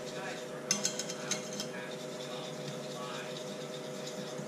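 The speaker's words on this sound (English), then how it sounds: "Gonna mix the peanut butter, nice and smooth." A spoon scrapes and clinks against a bowl while mixing peanut butter, a few sharp metallic taps early on followed by softer continuous stirring under a steady background hum.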